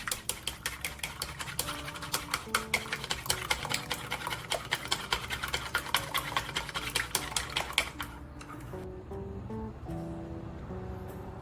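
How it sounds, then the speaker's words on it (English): Two eggs are whisked with a pinch of salt in a bowl: quick, regular clicking strokes for about eight seconds, then they stop and soft background music carries on alone. "Crack 2 eggs into a bowl, add a pinch of salt, and whisk well until smooth."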